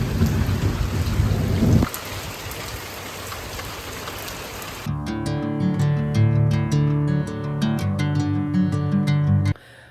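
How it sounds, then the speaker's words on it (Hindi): Heavy rain pours down in a dense, steady roar for several seconds, then gives way to music that carries on to the end. "इतनी अच्छी बारिश हो रही है, मेरी तो नींद ही खुल गई बारिश की आवाज़ से"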